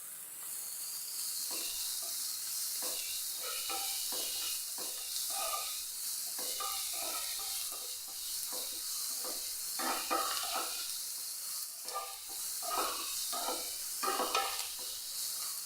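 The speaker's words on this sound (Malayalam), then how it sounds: "നല്ല പോലെ ഒന്ന് വഴറ്റിയെടുക്കാം" Onions with a pinch of salt sautéing in a pan, a steady close sizzle with repeated scraping stir strokes running throughout, no talking.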